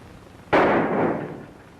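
A single loud gunshot in a western shooting contest cracks sharply after a quiet moment, then leaves a long, fading echo with no talk.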